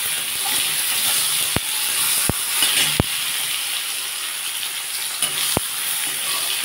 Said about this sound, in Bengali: এবার একটু টমেটো দিয়ে দিলাম।